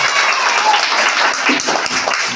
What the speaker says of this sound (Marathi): परत एकदा टाळ्या होऊन जाऊ द्या